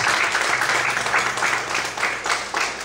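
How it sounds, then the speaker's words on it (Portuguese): A church congregation applauds, dense steady clapping from many hands filling the room for the whole stretch, with faint voices beneath. "Você pode aplaudir o Senhor nesta noite? Tem que ser bem forte as palmas."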